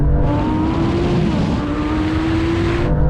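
Lamborghini Huracán Performante and Porsche 911 Turbo S launching side by side in a drag race, a loud steady engine roar with rising pitch as both cars accelerate hard from the line, no talk over it.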